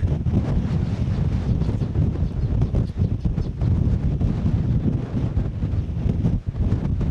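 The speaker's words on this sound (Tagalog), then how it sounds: "Ang lakas ng hangin kaya napahawak ako sa sombrero baka matangay." Strong wind roars and buffets the microphone in continuous gusts, loud and rough throughout, on Fortune Island, Nasugbu, Batangas, with no voices.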